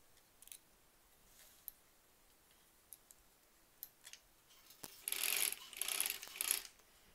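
An embroidery machine stitching a zipper pouch through thick fabric gives scattered mechanical ticks and clicks, then a louder run of rapid whirring stitching near the end, with no talk.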